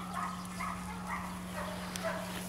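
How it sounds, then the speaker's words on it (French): A big dog barks in a few muffled, moderately distant woofs spaced about half a second apart over a steady electrical hum. "c'est un gros chien ça"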